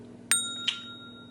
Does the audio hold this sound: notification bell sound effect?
yes